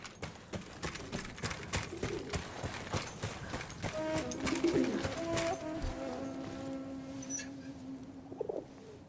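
A pigeon coos in the World War I shooter Battlefield 1, soft repeated calls in the middle of the clip over rhythmic footstep-like thuds from a jog, fairly quiet.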